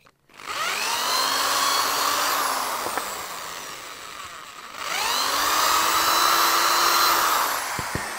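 A power drill whines steadily through wood for a knife handle in two long bursts, its pitch dipping then rising, with a short pause between them.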